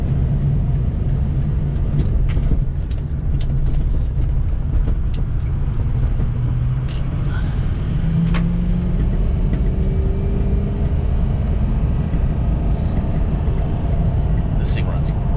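A 2006 Ford F250 diesel King Ranch 4x4 truck drives steadily, its low engine drone and road rumble continuous and loud throughout, with a brief rising whine partway through and light clicks and knocks above.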